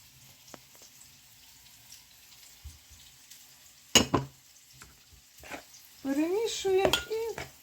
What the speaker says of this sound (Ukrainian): Все гарненько, ретельно розмішуємо і додаємо манку